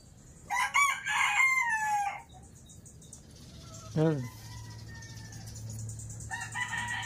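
A Japanese Shamo gamecock in a breeder's pen gives a loud, drawn-out crow near the start, then a short harsh call, and later a fainter crow farther off, with low background noise throughout.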